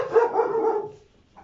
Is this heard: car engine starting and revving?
no